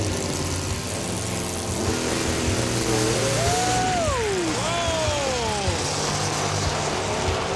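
A supercharged Chevy Nova drag car at the strip makes rising and falling engine sweeps that stand out over a constant broad roar of the track surroundings, with no talking.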